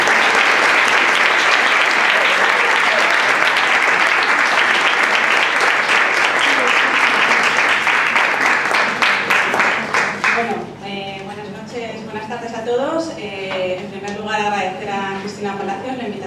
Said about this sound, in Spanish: un aplauso muy fuerte para María